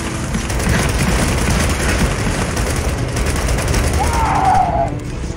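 Gunfire in Gears of War 4: steady, loud bursts of automatic fire and booming impacts over a rumbling engine-like drone, with voices talking underneath.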